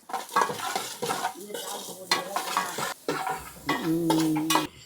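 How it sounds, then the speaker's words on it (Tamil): Onions with a spoonful of salt sautéing in oil for a fish head curry, with a steady sizzle broken by repeated stirring scrapes and clinks of a utensil against the pan, close and fairly loud. "நான் 150 கிராம் போட்டுட்டேன் வெங்காயம். இது நல்லா வதங்கட்டும்."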